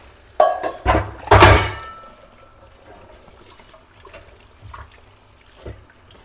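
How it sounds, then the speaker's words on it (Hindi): Dishes, pots and pans clatter in a home kitchen, with a loud burst of clanking and running water at first, then quieter trickling and occasional soft clinks. "तो फटाफट से बर्तनों को धो लेती हूँ।"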